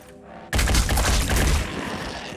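Gunfire from a soldier's weapon in the tactical strategy game Phoenix Point erupts abruptly after a quiet moment as a dense, loud burst of shots, then trails off into a sustained rumbling tail.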